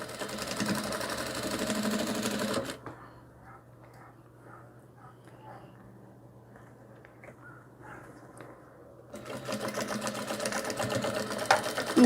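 A sewing machine set to stitch length 3.5 backstitches a rag doll dress in two bursts of fast, even whirring chatter, separated by a quieter pause filled with low handling clicks.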